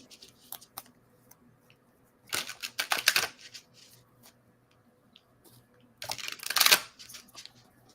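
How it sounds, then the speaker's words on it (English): A deck of playing cards being shuffled by hand, two quick riffling bursts a few seconds apart with soft card handling and small clicks between, close and fairly quiet, no talk. "Let's shuffle these cards more."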